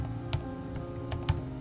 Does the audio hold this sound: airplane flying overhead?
no